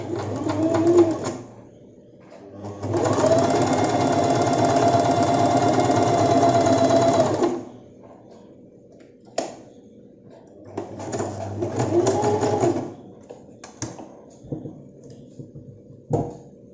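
Sewing machine stitching a petticoat cut from a saree, running in long steady bursts with pauses between, close and loud with no talk.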